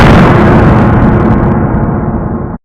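A loud, harsh booming burst that rumbles and slowly fades over a couple of seconds before cutting off abruptly, a horror video game death-screen sound effect.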